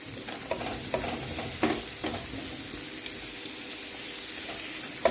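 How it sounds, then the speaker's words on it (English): Onions and carrots sauté in a pan for a Jamaican-style curry shrimp pasta, giving a steady close sizzle broken by a few soft scraping clicks as they are stirred. "continue to saute until the onions become translucent and the carrots become a bit softer"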